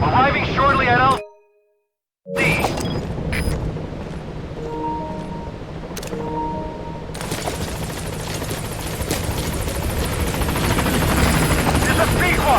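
B-Quad helicopter from Metal Gear Solid V approaching, a rotor roar cutting out briefly to silence near the start, then returning steadily and growing louder, with a few tonal game beeps in between.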